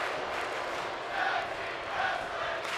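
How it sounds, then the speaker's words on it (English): A large arena crowd in the WWE 2K25 wrestling video game chanting in rhythmic, swelling waves during a tag team match, a steady roar with two louder surges, heard without any speech over it. "the crowd is loving it. They're chanting tag team wrestling."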